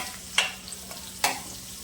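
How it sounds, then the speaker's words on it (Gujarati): Onions sautéing in a pan for paneer masala, a steady sizzle broken by two sharp stirring scrapes, close and alone with no voices. "હવે તેમાં ઓનિયન નાખશું। બરાબર સોટે કરશું"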